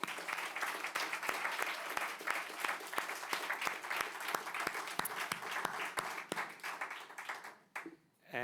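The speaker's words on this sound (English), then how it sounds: "you have to give yourselves a rousing round of applause" A room full of people at a 40 to None Day event breaks into sustained, dense applause, steady for about seven seconds before tapering off abruptly near the end.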